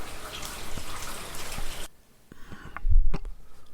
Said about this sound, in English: No vendors, just the sound of rain.